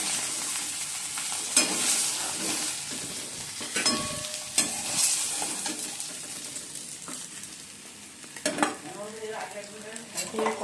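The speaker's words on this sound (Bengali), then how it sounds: "মাছটা ভাজা বসিয়ে দিয়েছি" Fish pieces fry in oil in a pan for a poppy-seed fish curry, a close, steady sizzle broken by clinks and scrapes of a utensil against the pan.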